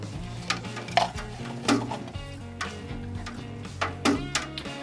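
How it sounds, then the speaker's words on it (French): A spoon stirs freshly pitched yeast into beer wort in a brewing pot, giving light irregular clinks and taps of metal against the vessel over a faint steady background hum. "je vais te demander de brasser avec la cuillère qui est là dans le moment"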